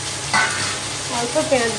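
Onions hissing and sizzling in hot oil in a pan, a steady loud fry with a brief stir clatter at the start and bubbling crackle rising toward the end.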